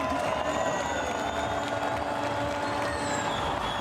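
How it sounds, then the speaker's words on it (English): Thousands of Chilean fans in a Santiago Formula E grandstand applaud and cheer as Sam Bird takes victory, a broad, steady wash of distant clapping with a sustained tonal hum running beneath it. "The Chilean fans that have turned out in their thousands are getting to their feet, starting to applaud"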